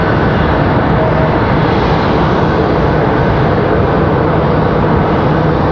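A Delta Boeing 737-900ER bound for Salt Lake City roars on takeoff from runway 23 left at Raleigh Durham, a loud, steady broadband jet engine blast filling the whole stretch without a break.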